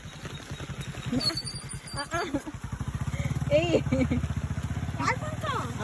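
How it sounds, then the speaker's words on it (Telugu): A motorcycle engine idles and revs nearby in the rain, its throbbing putter rising as it approaches, while people talk over it. "బైక్ వస్తుంది ఉండి వెళ్ళిపోని."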